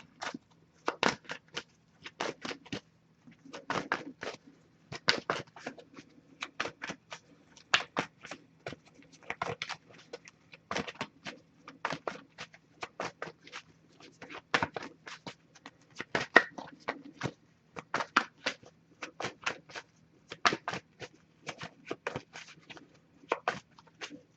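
A Wisdom of the Oracle tarot deck being shuffled by hand, close and quiet, with a long run of rapid, irregular card riffles and slaps and no talking.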